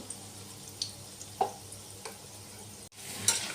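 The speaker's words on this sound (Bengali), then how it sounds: "কড়াইতে তেল দিয়ে বড়াগুলো ভেজে ফেললাম।" Lentil vadas fry in oil in a wok, giving a soft continuous sizzle with a few faint clicks and small pops, then a brief gap and a louder burst at the end.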